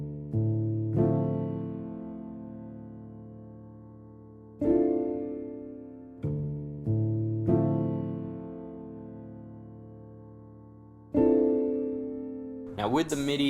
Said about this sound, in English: First off, we've got this main piano outside of contact.